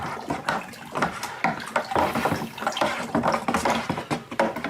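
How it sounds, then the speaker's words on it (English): A spoon stirs an apple pie moonshine mixture in a container, producing close, irregular sloshing and clinking liquid sounds throughout. "now just give that a little bit of a stir"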